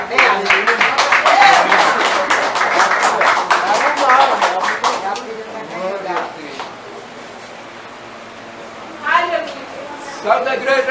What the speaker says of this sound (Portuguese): Vamos receber com as palmas bem aleluia.